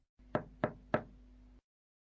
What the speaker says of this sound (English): she knocked on the door.